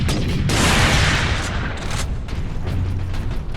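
In the Warhammer 40,000: Space Marine video game, a missile launcher and servo turrets fire in a loud, dense barrage of booms and blasts, a heavy roaring wash that stays intense throughout.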